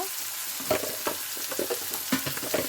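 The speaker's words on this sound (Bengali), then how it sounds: "এবার আমি ভালো করে মশলাটা ভুনা করে নেব" A spice paste of turmeric and cumin powder stir-fried in a pan gives a close sizzle broken by repeated scraping stirs of a spatula, several distinct strokes in an irregular rhythm, with no voices.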